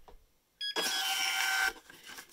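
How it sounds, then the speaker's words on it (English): Office printer printing a hard drive erase report after a data wipe: a mechanical whir starts, then a steady loud feed-and-print drone runs for about a second before stopping, near and alone. "And it's going to come over here to the printer."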